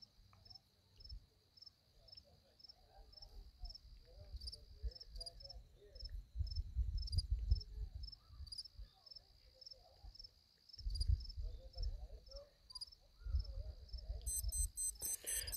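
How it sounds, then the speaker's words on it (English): A cricket chirping outdoors at night during a full moon nature walk: a fast, steady, high-pitched pulsing trill continues throughout, with low rustling and handling noise beneath and a brief electronic beep near the end. "So by this chirping of this cricket"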